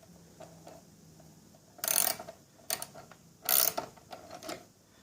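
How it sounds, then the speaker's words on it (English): Wrench turning a nut on a DIY blind-hole bearing puller, giving a few short, close metallic ratcheting bursts separated by quiet pauses. "Now take a wrench of any sort"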